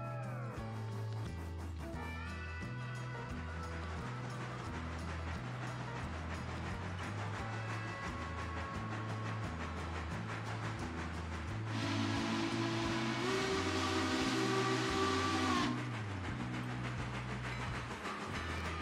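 A train whistle in the railway video game Railroader sounds in sustained tonal blasts, the longest held for several seconds, over a steady pulsing low rumble that runs throughout.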